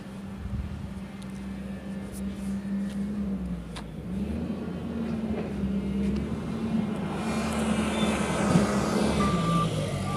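A forklift drives past during loading of foam rolls onto a truck, its reversing beeper sounding steadily over the low rumble of the engine and of a nearby idling truck, growing louder and nearer toward the end.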